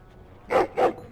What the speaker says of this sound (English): Excited barking.